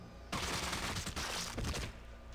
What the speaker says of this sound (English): But I'm going to burst fire on you.